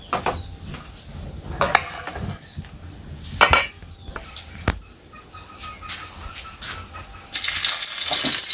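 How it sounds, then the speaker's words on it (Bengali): Dried red chilies tempering in hot oil in a kadai: scattered clinks and scrapes of utensils, then a bright, hissing sizzle bursts up close over the last second. "তো তেলের মধ্যে শুকনো মরিচ ফোড়ন দিলাম"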